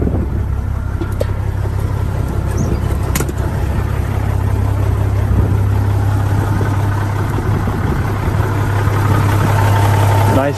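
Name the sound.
1994 Peterbilt 379 truck engine idling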